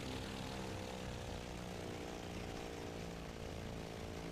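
A constant loud propeller engine roar from a damaged WWII naval fighter on carrier approach in the flight sim IL-2 1946; a close, raspy, steady drone with a stuttering edge fills the whole stretch, with no voices.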